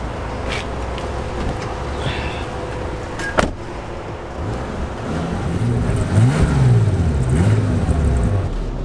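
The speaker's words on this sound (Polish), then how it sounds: "A teraz czas zobaczyć jak to auto jeździ." A used Bentley, a large, heavy luxury car in Dubai, drives off: a quiet cabin hum, a brief click, then the engine note rising and sweeping as it accelerates.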